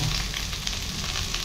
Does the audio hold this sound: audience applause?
no